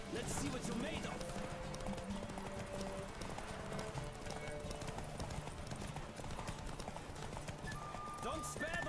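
Horse hooves galloping in the video game The Witcher 3, a fast continuous clatter of hoofbeats heard faintly beneath music and voices talking.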